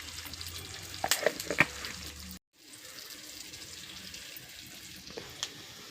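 Curry leaves and turmeric hit hot oil with a loud crackling burst and sputtering pops, then the sound cuts and resumes as a softer steady sizzle.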